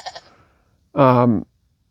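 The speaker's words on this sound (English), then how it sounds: "This wasn't a clearing as much as it was a little goat farm" A goat on a small hillside goat farm bleats once, a loud, close, wavering cry of about half a second following a few faint sounds.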